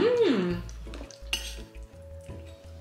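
A spoon clinking against dishes while eating at home, a few light metallic taps and scrapes, close and fairly quiet, with a brief voice at the start.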